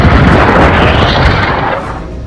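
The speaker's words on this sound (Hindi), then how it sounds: "मिसाइलें गरज रही हैं" Loud, dense rumbling blasts of missile strikes in a war zone, a continuous roar of explosions that fills the whole stretch and fades slightly toward the end.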